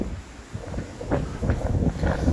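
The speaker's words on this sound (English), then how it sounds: "Oh, the wind is blowing now." Wind blowing outdoors in the castle gardens of Colchester, Essex, buffeting the microphone as a steady low rumble that swells and gusts over a couple of seconds, close and fairly loud.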